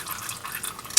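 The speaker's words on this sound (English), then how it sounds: "As you can see, it's still dripping oil." Oil drips from the drain of a 2009 BMW X6 E71 35i during an oil change, faint soft patters close by in a quiet space, with one sharper drop near the end.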